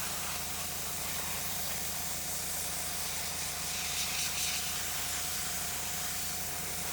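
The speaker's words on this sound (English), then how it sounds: "this is what I'm using, an air sprayer, a makeup sprayer, and it just goes right on." An airbrush makeup sprayer blows a steady hiss of air while spraying white color onto a beard, continuous and close, with a low motor hum underneath and no talking.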